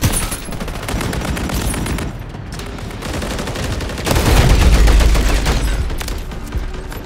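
Video game gunfire rattles loudly and almost without pause, with rapid automatic bursts that swell into a heavier, denser barrage midway before easing off again.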